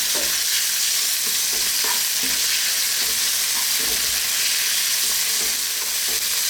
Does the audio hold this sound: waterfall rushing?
no